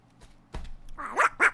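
A pet dog gives a couple of short, sharp yips and barks up close after a thump in a quiet room.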